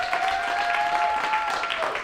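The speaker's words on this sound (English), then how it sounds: "And you guys, you're applauding" Audience applauding at a ball event, a dense wash of clapping from many hands, steady throughout with a sustained tone and some voices beneath.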